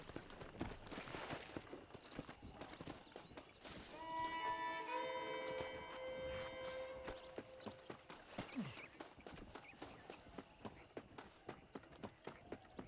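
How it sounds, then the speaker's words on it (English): Horse hooves clip-clop steadily in the Red Dead Redemption video game, a close, even walking rhythm under soft ambient game sound. "I picked out a fine horse for you."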